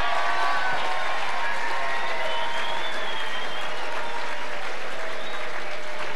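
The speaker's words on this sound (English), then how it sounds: "Another huge round of applause for Corey McKernan." Crowd at a 2002 Carlton Football Club best and fairest awards night giving a big round of applause for the winner, Corey McKernan: thick, continuous clapping from a large room, even and unbroken.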